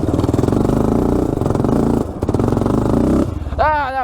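An ATV engine revs hard and steadily, close and loud, as the quad spins a donut on a woodland trail. A rising whine follows near the end, with the rider's voice over it.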